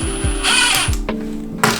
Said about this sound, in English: I'm actually using the drill because I get more control out of it.